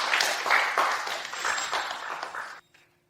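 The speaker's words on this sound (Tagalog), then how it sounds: "Bigyan natin siya ng masigabong palakpak." An audience claps together in warm, dense applause that holds steady for about two and a half seconds, then cuts off abruptly into near silence.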